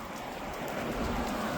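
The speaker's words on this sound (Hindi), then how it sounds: "3 किलोमीटर के पास बारिश हो गई है" Rain falling steadily during an outdoor 8 km run, a continuous even hiss with no voices.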